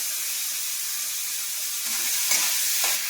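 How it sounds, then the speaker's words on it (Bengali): Onions frying in oil in a home kitchen pan alongside chillies, a steady close sizzle with a few brief stirring scrapes near the end. "পেঁয়াজ দিয়ে ভালোভাবে ভেজে নেবো"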